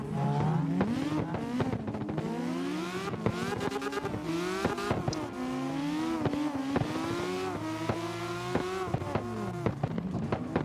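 Race car engines revving up and down through gear shifts in a racing video game, with rising and falling whines, tire squeals and clicks, several cars close together and loud, no talk.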